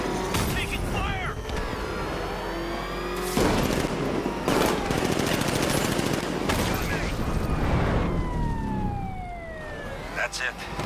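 Heavy gunfire in Batman Arkham Knight, dense volleys alongside sirens and whooshing effects, loud and continuous, with voices shouting over the action.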